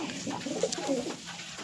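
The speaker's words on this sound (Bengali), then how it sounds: "এই হচ্ছে বাচ্চা পায়রাটা" A young pigeon from a home loft gives a soft, low coo in a short series of close, quiet phrases, with no talking.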